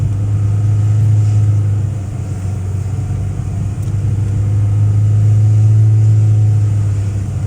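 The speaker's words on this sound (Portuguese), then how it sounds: "O Rô tá descendo engrenado, mas pisando no freio também, não tem jeito, né?" A car engine hums steadily while descending a steep, high mountain road in gear with the brakes also applied, a continuous low drone close by, without talk.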